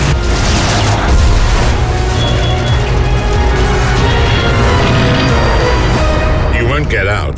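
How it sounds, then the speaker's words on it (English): Dense, heavy flak explosions in a War Thunder game trailer, booming continuously and loudly through the whole stretch with dense rumbling low end and crackling bursts, no pauses. "And then the flak comes in, thick and heavy."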